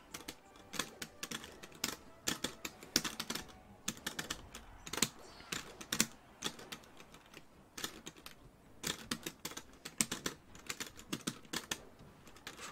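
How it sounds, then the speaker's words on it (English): Rapid typing on a computer keyboard by a player during a Super Smash Bros. Melee tournament match, with dense irregular bursts of key clicks running steadily throughout, close and fairly clear, with no talk. "All I know is he's playing on a keyboard."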